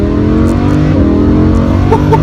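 Lamborghini Huracan engine accelerating hard through the gears on a highway on-ramp, a loud continuous roar heard from inside the car, with steady revving and no talking.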